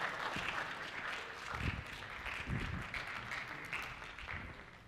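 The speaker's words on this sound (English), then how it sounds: "Round of applause for Mia and Jasmine." An audience at the 2015 American Heritage Scholarship Program claps for two volunteers coming up, a steady, full round of applause that holds for several seconds with no talking over it.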